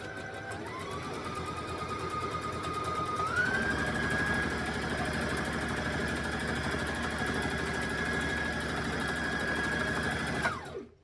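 A sewing machine stitches and back-stitches the fabric of a dress. Its steady, close mechanical whir shifts pitch partway through, holds a constant buzzing hum, then winds down and stops near the end.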